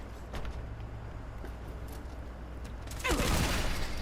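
A cannonball gun fires in Fallout 4, one heavy burst near the end that stands out loudly over a low steady background hum.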